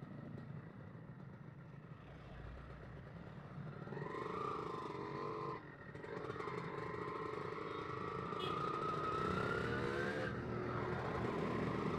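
Two-stroke motorcycle engine running with oil mixed into the fuel tank, a close idling rasp that rises into a revving whine and settles, then climbs again, with a short dip in the middle.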